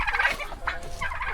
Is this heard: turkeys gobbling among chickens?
yes